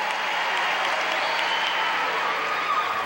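A crowd at Purdue University applauds during President Reagan's 1987 speech, a steady, full wash of clapping and crowd noise, moderately loud and continuous, with faint voices mixed in.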